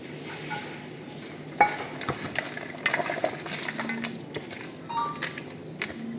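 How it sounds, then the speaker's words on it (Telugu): A spoon stirs fried garlic and onions together for a chutney in a pan, giving soft scraping and sizzling with a few metallic clinks against the pan. No one speaks. "ఇప్పుడు అన్నీ వేసి ఫస్ట్ మిక్స్ చేస్తాం."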